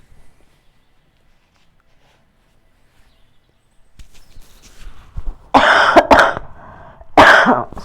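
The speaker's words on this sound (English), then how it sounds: "I'm so sorry about the cough." A person coughs in two sharp, loud bursts after a quiet stretch with some faint rustling, close to the microphone.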